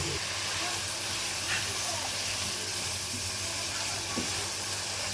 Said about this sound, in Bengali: ভেজে নিব, মাংসটা একটু ভেজে নিব